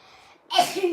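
A single sharp sneeze bursts out loud and close, with a quiet breathy inhale just before it.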